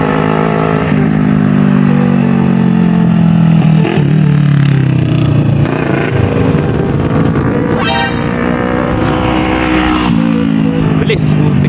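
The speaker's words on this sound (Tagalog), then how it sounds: "Sarap ng motor ni Kuya Dylan, no?" Yamaha MT-09 motorcycle engine revving loudly and continuously up close at a motorcycle hangout, its pitch rising and falling over a steady rumble, with people talking nearby.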